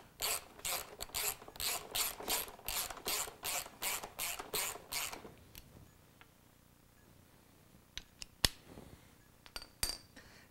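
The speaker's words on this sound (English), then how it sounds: "Now we can bolt our rear subframe back in place." A Honda CRF motorcycle rear subframe being bolted back in place, a quick run of about a dozen rhythmic ratchet clicks up close, then quieter handling with a few scattered sharp metallic taps, no talk.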